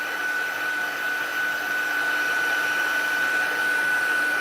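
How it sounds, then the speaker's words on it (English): A handheld heat tool blows hot air to dry stamped ink on a craft project, a steady loud whooshing drone with a thin high whine held unbroken throughout. "Just give this a blast. Dries quite quickly with the heat tool."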